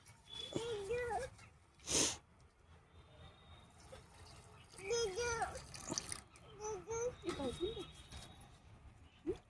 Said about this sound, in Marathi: गरम पाणी टाकूया याच्यामध्ये.